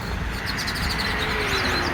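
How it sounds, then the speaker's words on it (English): Birds chirping and tweeting faintly amid steady outdoor background noise in a botanical garden in Trinidad, with a low hum of distant traffic. "Listen to the birds."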